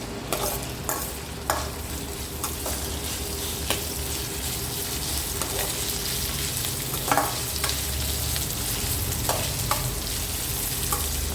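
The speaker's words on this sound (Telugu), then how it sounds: "ఆనియన్స్ వేసుకొని కొంచెం గోల్డెన్ బ్రౌన్ కలర్ వచ్చే వరకు వేర్చుకోవాలి." Sliced onions sizzle and fry steadily in a pan for gurigaku curry, cooking toward golden brown, with occasional scrapes and clinks of a stirring spoon punctuating the continuous crackle, close and moderately loud, no talking.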